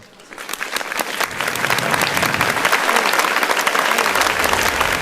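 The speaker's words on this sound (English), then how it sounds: "Is that worth a round of applause?" An audience at an Asian Apprenticeship Awards ceremony breaks into applause for a keynote speaker, the clapping swelling within a moment into a steady, dense roar of many hands that fills the rest of the stretch.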